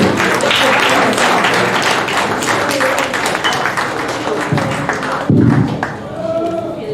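Church congregation at a Sunday service clapping loudly, a dense sustained round of applause that thins out toward the end, with a few scattered voices over it.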